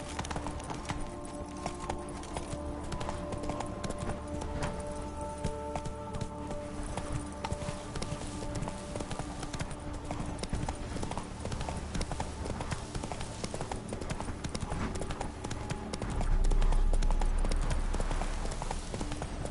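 In a video game, a horse's hooves clip-clop at a steady walking rhythm throughout, close and clear beneath a low game soundscape, with a brief louder swell near the end.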